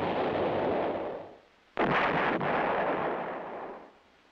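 An M110 self-propelled 8-inch howitzer fires once, a sudden loud blast that cuts in over steady broadband rumble. The boom decays slowly into a long rolling roar.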